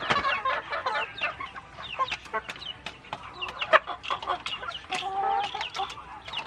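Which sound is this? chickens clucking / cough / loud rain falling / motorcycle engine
chickens clucking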